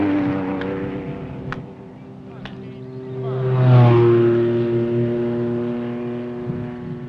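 An off-road race car in the 1990 Nissan 400 desert race passes by, its engine rising to a loud peak midway and then fading off with a steady drone.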